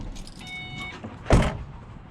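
A car door is unlocked and opened: a faint mechanical whir is followed by one sharp, close clunk that quickly fades. No one speaks.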